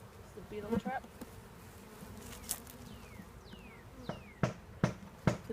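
Honey bees at a beehive on a farm, a faint continuous insect buzz with several sharp individual bees zipping close past, their brief loud passes standing out near the end.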